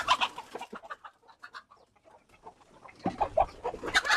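Free-range country hens cluck in short, irregular bursts, close and clear, with a busier flurry of overlapping clucks toward the end and no talk.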